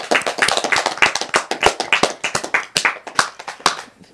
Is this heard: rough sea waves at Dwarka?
no